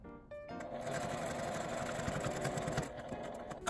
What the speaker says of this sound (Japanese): 端を合わせて最後まで縫います